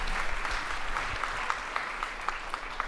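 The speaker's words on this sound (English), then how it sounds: "big applause for this great discussion" Audience applause after a panel discussion on a conference stage, a steady wash of clapping that holds evenly for a few seconds.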